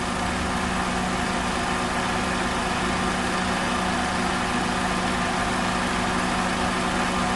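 A 2004 Toyota Wish 2.0 Q with a 2,000cc VVT-i engine idles steadily and smoothly, a constant close-up hum with a low droning tone and no revving, heard alone.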